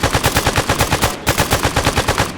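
Rapid automatic gunfire during a shooting operation, loud and close, with bursts of evenly spaced shots broken by a brief pause before firing resumes.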